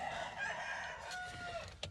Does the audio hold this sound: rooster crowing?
yes